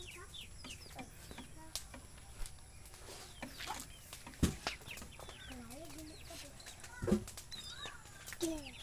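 Chickens cluck in short scattered bursts nearby, fairly faint, with people talking and a few sharp knocks in between.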